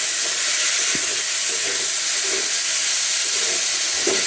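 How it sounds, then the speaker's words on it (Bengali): Meat sautéing in a pan with turmeric, chilli and salt gives a loud, continuous steamy hiss, close and steady throughout, with a few faint clinks and scrapes beneath. "কষিয়ে নেব"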